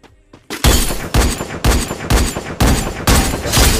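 Rapid gunfire from the Free Fire video game rattles out in about six loud back-to-back bursts after a short quiet start, sharp and close.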